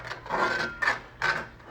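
A spoon scrapes the bottom of a gumbo pot while it is stirred, making three rough rasping strokes in a steady rhythm, close and moderately loud.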